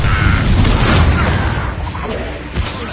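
A Confringo explosion spell in Hogwarts Legacy, a loud, close booming blast with crackling debris that slowly decays amid other game noise.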